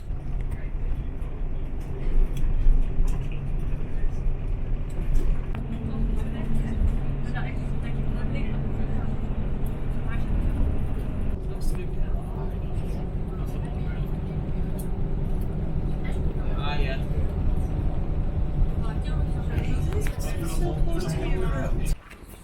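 A public bus travelling to Efteling in the Netherlands rumbles steadily from inside, with a continuous low engine drone, road noise and occasional rattles, ending abruptly as the ride stops.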